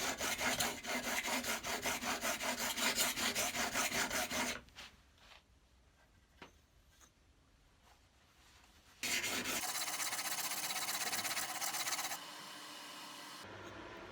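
Stanley 110 block plane blade being sharpened, rhythmic rasping strokes of steel rubbed back and forth on a stone, then a pause with a few soft knocks, then steady rubbing resumes, close and moderately loud.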